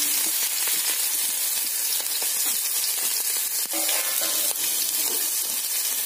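Onion, ginger and green chili fry in a pan of hot oil with popped mustard seeds, making a loud, dense, continuous sizzle close up, with occasional crackles and stirring scrapes.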